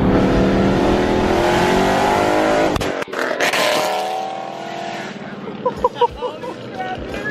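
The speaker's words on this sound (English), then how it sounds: "that backfire you just saw" A Ford Mustang with 2-step launch control revs hard and loud, breaking into sharp exhaust backfire pops and crackles before settling toward a rumbling idle with scattered bursts.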